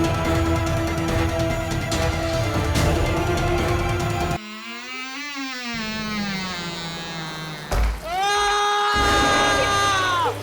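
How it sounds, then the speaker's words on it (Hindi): After dense, loud noise, a high wavering scream rises and bends in pitch, breaks off, then returns as a strained, sustained cry. "ये चीख कैसे?"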